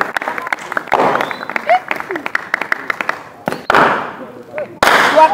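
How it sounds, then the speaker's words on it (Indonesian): A church congregation at a Good Friday Easter service claps loudly and enthusiastically for Jesus Christ, dense rapid applause with sharp thumps and bursts swelling and dropping, cheering voices mixed in. "Mari kita berikan tepuk tangan yang paling meriah untuk Tuhan Yesus Kristus."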